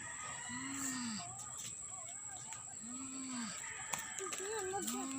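Cats fighting while trapped under a basin: long, arching yowls rise and fall in three drawn-out bouts over a steady background hum, with higher wavering cries near the end.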